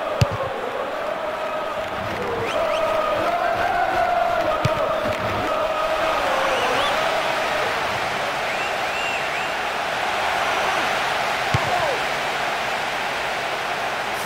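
A stadium crowd in the PES 2023 football video game, a Ligue 1 match of FC Nantes against Olympique Lyonnais, rises into a broad sustained roar of cheering that swells and holds at steady volume.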